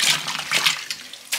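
Water splashes and rushes into a washing machine tub in a laundry room in Jamaica, coming in several hissy bursts with short pauses between, close and fairly loud, with no voices.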